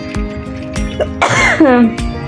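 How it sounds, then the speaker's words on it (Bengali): A single sharp cough breaks through, followed by a throaty voiced sound, between quiet clicks and brief noises close to the microphone. "গলাটা জমে আসতেছে কাশিও হয়"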